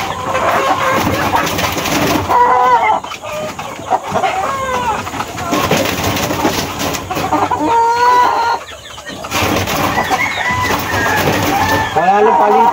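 Chickens and roosters cluck and call steadily in a backyard poultry yard, with overlapping near and distant bird voices forming a busy, continuous chorus and occasional louder calls.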